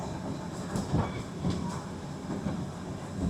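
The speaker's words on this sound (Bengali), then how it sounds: "দেখুন, ট্রেন পুরো ঘন জঙ্গলের ভিতর দিয়ে যাচ্ছে এখন" The Darjeeling toy train rolls through dense jungle on the Gayabari route with a steady rumble and a rhythmic clatter of wheels on the rails, heard from on board.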